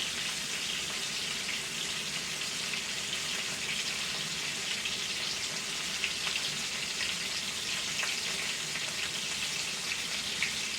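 Chopped steak searing in a hot pan, a dense continuous crackling sizzle with scattered spitting pops, close and steady with no voices over it.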